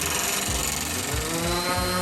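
A power tool rounds over the end of a rough-cut cedar 2x2 for a camp chair leg, giving a steady, loud mechanical whine with pulsing low cuts as the bit works the wood, with no talk.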